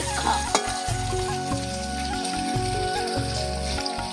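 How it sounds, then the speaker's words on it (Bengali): Vegetables frying in hot oil for Bengali shukto, a steady close sizzle with stirring scrapes throughout and a sharp clatter near the start, under a low humming background. "দেখো, শুক্তোর জন্য এই যে সব ভেজে নিচ্ছি।"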